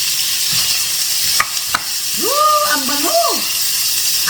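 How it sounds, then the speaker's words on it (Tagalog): Onion and garlic sizzle in a hot pan, a steady frying hiss with a couple of sharp clicks and a brief utensil scrape, heard up close and without talking. "Lagay natin ang ating sibuyas, aming bawang pala."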